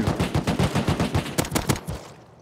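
Rapid automatic gunfire in the survival game Rust, a loud sustained burst of closely spaced shots that tapers off at the end.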